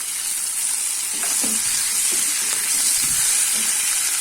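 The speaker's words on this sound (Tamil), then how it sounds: "இப்போ தக்காளி ஓரளவுக்கு வதங்கினா போதும்" Chopped small tomatoes and onions sautéing in a pan for chana dal kurma, a steady loud sizzle and hiss with faint stirring scrapes, close up and without talk.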